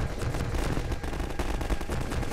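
A Strider firing in the Half-Life 2 video game: dense rapid bursts of gunfire, loud and continuous, a rattling stream of shots with a heavy low-end thump, heard without talk.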